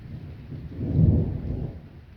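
A moderate summer thunderstorm: a deep, rolling thunder rumble swells and fades over steady rain, close and fairly loud, with no voices.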